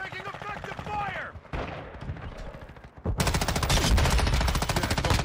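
An M13 rifle fires in a Call of Duty style shooter, with rapid automatic bursts that cut in and out, then a loud sustained stream of close gunfire with faint voice-like sounds mixed in early.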